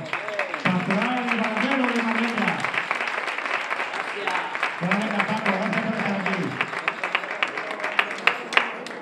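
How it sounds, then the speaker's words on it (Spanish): Audience applause at a pastorales music competition, continuous clapping running under a loudspeaker voice and stretches of music or singing, with a few sharper claps standing out toward the end. "Fuerte aplauso."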